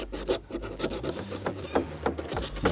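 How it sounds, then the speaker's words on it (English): Rhythmic rasping strokes of sandpaper sanding through primer on a surface, close and repeated back and forth roughly every quarter second. "with sanding through the primer"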